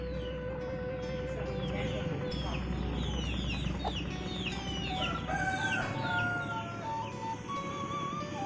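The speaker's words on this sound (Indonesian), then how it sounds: "lagi kasih makan ayam. Banyak sekali ayamnya" Many chickens clucking in a mountainside village in southern Cianjur, with roosters crowing repeatedly over a steady, busy flock murmur at close range.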